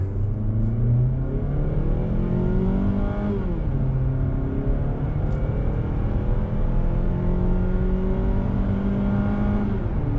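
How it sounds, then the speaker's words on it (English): Mazda CX-30 accelerating flat out uphill from a standstill to 60 mph in sport mode, engine note climbing steadily through gears with a brief dip at a shift, loud and close, no talking. "And we'll do our 0 to 60 run uphill."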